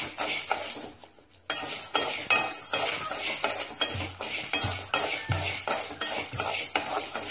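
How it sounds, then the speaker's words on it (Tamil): Chana dal dry-roasting in a pan for sambar powder, a dense rattling scrape as the lentils are stirred continuously with a spatula, with a brief pause near the start and soft metallic knocks later, close and loud, no talking. "இப்போ நம்ம கடலைப்பருப்பு வறுத்துக்கலாம்"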